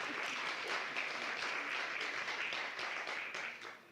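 Steady applause from a crowd, a dense wash of clapping that holds throughout and eases slightly at the end.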